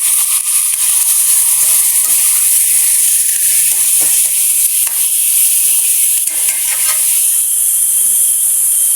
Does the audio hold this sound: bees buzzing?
no